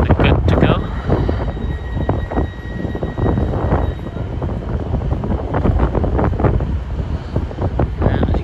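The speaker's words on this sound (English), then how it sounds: "as you can tell, it is a little bit windy here" Strong gusty wind buffets the microphone at a railway station, a constant low rumbling roar with irregular bursts throughout, loud and close, with a faint steady tone in the background.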